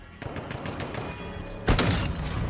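Rapid SP-X 80 rifle gunfire in the video game Call of Duty DMZ, a dense run of sharp shots under steady game ambience, swelling to a louder, heavier burst partway through.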